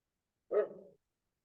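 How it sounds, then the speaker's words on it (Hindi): A single dog bark, short and fairly close, with a brief trailing tail, alone in otherwise quiet surroundings. "ये कुत्ते कहाँ भौंक रहे हैं?"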